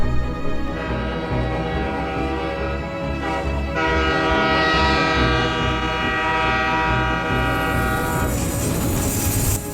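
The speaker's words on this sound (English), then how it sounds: "As I watch the trains go by in the Kamloops Hills" Freight trains roll past in the Kamloops Hills with a loud, sustained multi-tone horn blast over the steady rumble and clatter of rail cars, and the horn sounds again near the end.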